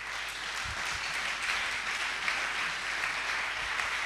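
A church congregation applauds continuously, a dense steady wash of many hands clapping at moderate distance with no voices rising above it.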